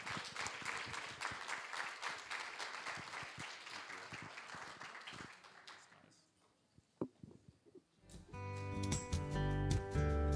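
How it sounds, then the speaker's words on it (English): Forum audience applause runs fairly quiet and distant for about six seconds, then thins to a few scattered claps before music swells in loudly at the end. "a big round of applause for all of the contributors today"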